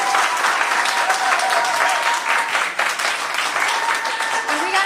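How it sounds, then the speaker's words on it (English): Loud, sustained applause from a crowd at a youth college scholarship check presentation, with voices and cheers mixed into the clapping throughout. "I'd love for us to cheer and make a lot of noise."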